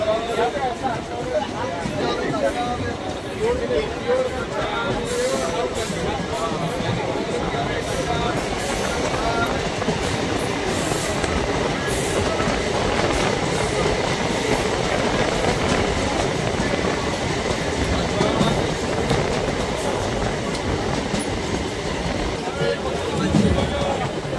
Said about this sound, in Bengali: রেজিনগর থেকে আমাদের ট্রেন ছেড়ে দিল